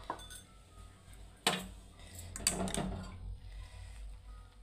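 A metal spoon clinks against a pot of masala tea as it is stirred, with a few sharp taps and a softer scraping swirl close by, and no talk.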